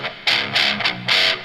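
Heavily distorted high-gain electric guitar recorded with a Shure SM57 dynamic mic chugs in short bursts, three or four gritty chords with a harsh, buzzy top, loud and close.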